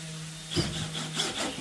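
Screws are driven into the back of a wooden drawer box built from 7/16 inch material with glued joints: a low steady hum runs beneath a few rhythmic, close scraping creaks of wood, with no talk.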